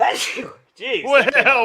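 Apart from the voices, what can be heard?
sneeze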